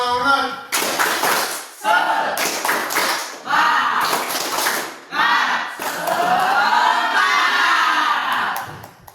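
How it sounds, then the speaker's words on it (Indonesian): A group performs a rhythmic spirit clap, bursts of synchronized clapping and shouted chanting in a call-and-response pattern, loud and close, with a leader's voice between rounds. "Tepuk semangat."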